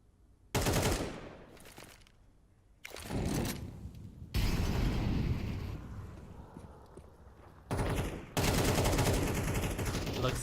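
Counter-Strike match gunfire, with loud bursts of rapid automatic shots separated by short quieter gaps and a faint commentator voice underneath.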